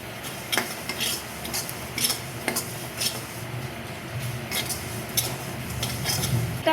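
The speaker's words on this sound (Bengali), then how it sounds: "ভাজা হয়ে গেছে পুটপুট আওয়াজ হচ্ছে" Sesame seeds dry-roasting in a pan for mango sesame laddu, giving sporadic sharp crackling pops and light stirring scrapes over a low steady background, close and fairly loud.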